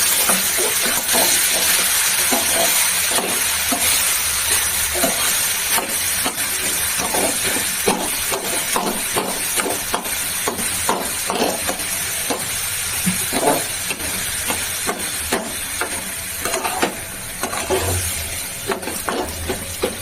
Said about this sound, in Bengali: সুন্দর করে একটু কষিয়ে দেবো।